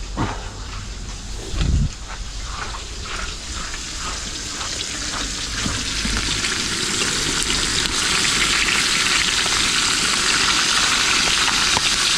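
A fish frying in a pan while being flipped with a ladle, steady loud sizzle and hiss throughout with a brief thump of the turn near the start, no talk.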